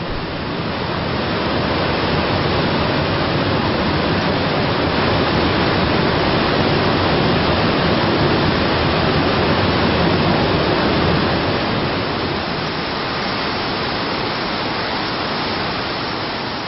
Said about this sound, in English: the entire Merced River is upended and slammed on a steeply sloped granite wall